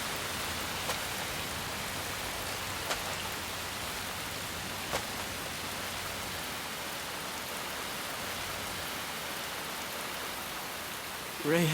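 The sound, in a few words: rain falling in anime scene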